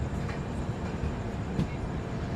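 The Rajdhani Express pulls out of Durgapur with a steady low rumble of rolling carriages heard from inside the train, fairly quiet, with light rattles and clicks over the continuous drone.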